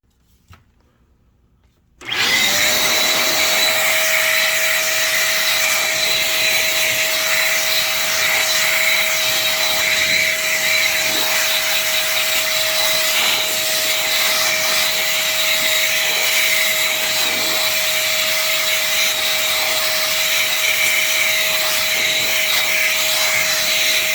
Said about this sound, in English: one thing I'm going to say about this blower, I do notice after a couple of minutes